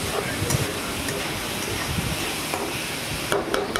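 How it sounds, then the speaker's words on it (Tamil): Onions sautéing in oil without salt in a pan, for a dish meant to go with chapati, naan or rice, give a steady close sizzle with stirring scrapes throughout. "அதனால் உப்பு கூட போடாமல் தான் நான் அப்படியே எண்ணெயில் வதக்குறேன்."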